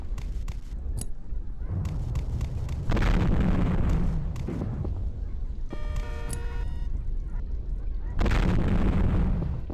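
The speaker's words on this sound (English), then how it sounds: "Stay behind the white line and don't use more than 6 grenades to kill all the dummies." Grenade blasts in the mobile shooter game Payback 2, heavy booming explosions in repeated bursts over a constant loud rumble of game sound, with a brief ringing chime in the middle.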